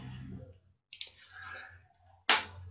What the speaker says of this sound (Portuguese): Vou clicar dois cliques aqui para aplicar a forma até o final.